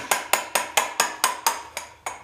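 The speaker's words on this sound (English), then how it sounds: "use your gouge and your little mallet" Eight evenly spaced wooden knocks of a mallet tapping a gouge, steady rhythm, close and crisp with no talking.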